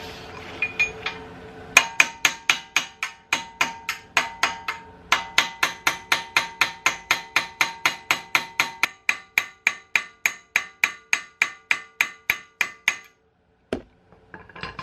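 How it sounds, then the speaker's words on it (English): A hammer pounds a car axle out of a 2018 tenth-generation Honda Accord during transmission removal. Dozens of sharp, ringing metal-on-metal blows land in a steady, close rhythm, pausing once early on, then stopping abruptly near the end. "Just gotta keep hammering it."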